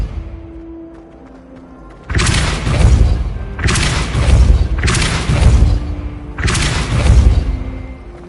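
The Depulso spell in a wizarding video game fires as a series of four heavy whooshing booms in quick succession, loud and close, each blast rumbling briefly before the next.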